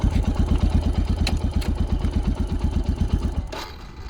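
A motorcycle engine runs close by with a steady, throbbing rhythm, then stalls about three and a half seconds in and falls quiet apart from a faint hiss.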